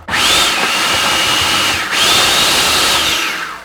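A blender gives a quick whiz to a tablespoon of sun-dried tomato, a steady loud whirring motor with a brief dip midway before it spins up again, close and alone.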